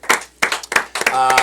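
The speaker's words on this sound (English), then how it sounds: "Big round of applause for Sam Weber, everybody" A studio audience at a comedy talk show claps in short separate bursts, a few close hand claps that swell into a brief round of applause.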